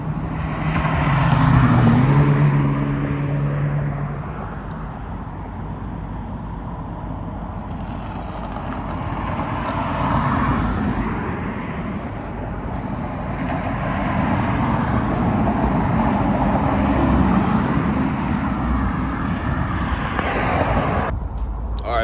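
Steady roar of road traffic with vehicles passing close by, the rumble rising and falling over the length of the recording; no talking.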